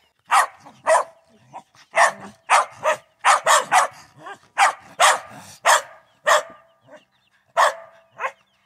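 Dogs bark at an off-grid cabin building site, giving repeated sharp loud barks and yips in irregular bursts, close and prominent, with little else underneath.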